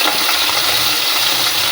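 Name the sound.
meat frying in hot oil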